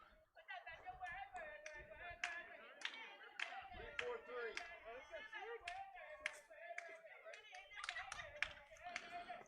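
Rhythmic clapping and chanting from a softball dugout cheer by the Lady Skyhawks, with music playing nearby, steady and moderately distant with crowd voices mixed in during a Roane County versus Scott high school softball game.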